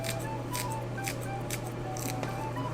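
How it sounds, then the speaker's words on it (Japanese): Scissors snip through shiso leaves, a run of short crisp cuts over a steady outdoor hum on a deserted island. "でしそももうハサミで切って"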